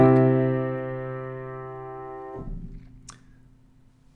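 Two sustained chords form a plagal cadence, a minor subdominant resolving to a major tonic, in a keyboard tone. The first chord rings clearly for about two seconds, then the second follows more quietly, with a faint click near the end.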